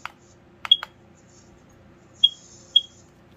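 Several short, sharp electronic beeps from a FireX 10000 carbon monoxide alarm being tested, a quick pair near the start and two more spaced apart later, each clear and close over a quiet background.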